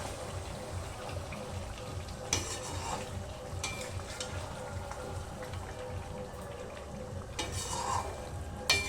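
Chicken curry with whole garlic cooking covered on a low flame makes a steady, soft sizzle close by, broken by a few brief clinks, with no voices.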